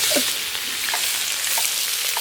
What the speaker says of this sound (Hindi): तो भाई अब इसमें डाल देते हैं ये हरी मिर्च और प्याज।